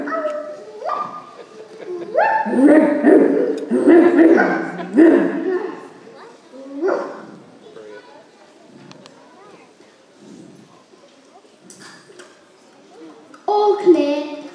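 Actor on stage in a school production of Peter Pan Jr imitating a dog, giving a string of loud vocal barks and yelps, with stage talk and audience chuckles around it, followed by quieter dialogue and a final burst of noise.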